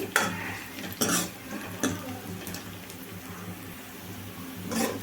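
A spoon scrapes and stirs a tempering with onions in a pan at intervals over a constant sizzle of frying oil, close up.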